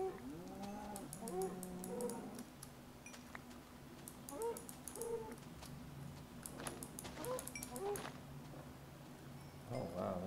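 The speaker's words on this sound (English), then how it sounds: "There's lots of cows over here." Cattle lowing in a video game, several moos rising and falling across the clip at moderate level over a steady low background hum, with a voice speaking between them.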